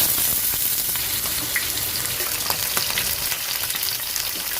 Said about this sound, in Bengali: আলুগুলো ভেজে নিয়েছি।